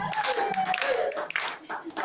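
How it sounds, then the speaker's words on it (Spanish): Clapping from a crowd for the people of Cachuta, loose and uneven hand claps under a voice talking and a melodic tone. "Palmas para la gente de Cachuta."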